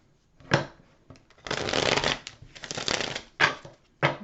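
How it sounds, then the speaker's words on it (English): Tarot cards being shuffled by hand: a quick riffle, a longer run of rustling, slapping shuffles, then two sharp taps as the deck is squared, close and clear with no talking. "Let me get another shuffle."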